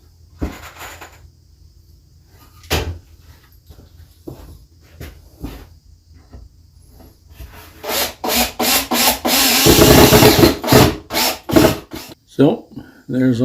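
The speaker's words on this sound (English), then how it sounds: "So now I'm going to put some screws in." Screws being driven into a wooden DIY pantry: brief scraping and knocking at first, then a loud, close run of driver whirs with short pauses between them.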